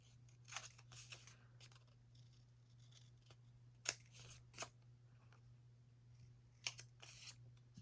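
Scissors snip out paper corners for a junk journal. Several short, sharp, close cuts come in small bursts with pauses between them, over a faint steady low hum.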